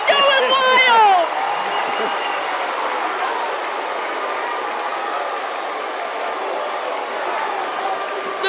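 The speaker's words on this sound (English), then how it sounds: "The crowd is going wild." A packed high school gym crowd at a county championship basketball game roars and cheers wildly after a steal and layup, a loud, sustained wash of voices with a brief whistle-like shriek at the start.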